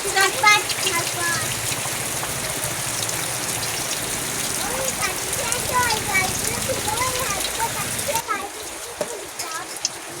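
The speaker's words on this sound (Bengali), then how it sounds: "বৃষ্টি হচ্ছে কিরম দেখতে পাচ্ছ" A sudden downpour of rain comes down outdoors as a steady, loud, broadband hiss and patter that runs continuously and close, with a voice faintly present underneath.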